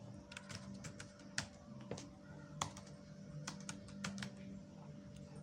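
Typing on a computer keyboard while entering Excel SUMIFS formula criteria, a run of brisk, irregular clicks and taps up close, with steady faint room hum underneath.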